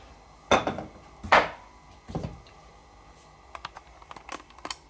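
A knife chops through the tough end of a butternut squash on a board in a home kitchen, with two loud heavy thuds, a softer third cut, then light tapping and clatter.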